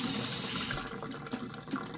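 Water runs steadily from a tap into a sink, rinsing soap from makeup brushes, a close, continuous hissing splash with no talking.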